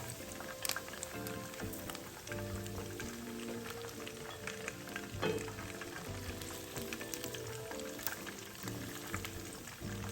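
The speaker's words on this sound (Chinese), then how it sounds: "肉块油炸至视频中这状态，" Chunks of pork belly deep-fry in a wok of hot oil, giving a steady, faint crackling sizzle with scattered pops throughout.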